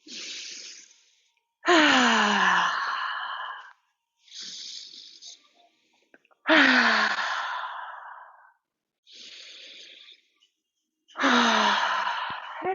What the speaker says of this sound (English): Hands come right up the center of the body, the throat, and cup around the mouth for 3 audible exhales